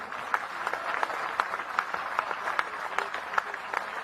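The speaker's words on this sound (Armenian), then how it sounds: "Ծափահարություններ Գյումրիին" A crowd at a political rally in Gyumri, Armenia applauds steadily, with sharp individual claps standing out from a continuous wash of clapping that holds an even, moderate level.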